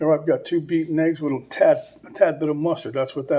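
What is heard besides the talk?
None of the usual background noises is heard.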